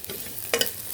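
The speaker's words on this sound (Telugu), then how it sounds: "ఆయిల్ వేసి ఏం వేయకుండా ఒక ఆయిల్ వేసి ఇట్లా ఫ్రై చేస్తానండి" Ivy gourds (dondakaya) fry in plain oil, a brief close sizzle with a sharp stirring scrape just past the middle, no voices.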